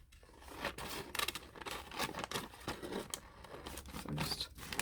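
Scissors snip through paper for a vintage-style collage, a close, quiet series of crisp cuts and rustling paper, irregular in rhythm with no talking.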